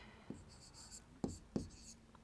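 Pen strokes scratch across paper in a few short bursts, a handful of distinct scribbles spaced apart, quiet and close, while a math solution for a probability problem is being written out.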